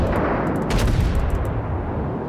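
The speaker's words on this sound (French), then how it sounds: "Non mais il faut qu'ils arrêtent ces canons." Naval cannons in the World of Warships game boom in a rapid volley of loud shots, several blasts overlapping into a rolling barrage before settling into a lower rumble.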